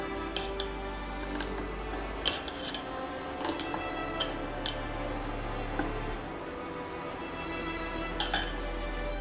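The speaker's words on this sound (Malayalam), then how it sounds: "ഉപ്പ് ചേർത്ത് നന്നായിട്ട് ഇളക്കി വയ്ക്കാം" Green gram dosa batter being stirred with salt, a utensil scraping and ticking against the bowl in quiet, irregular clicks and taps close by, with a low steady hum underneath.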